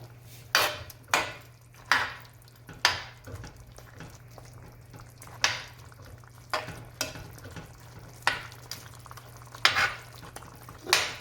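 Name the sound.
stirring stew chicken in pot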